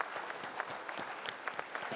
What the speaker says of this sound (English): All right, a big round of applause, please, for all of our winners.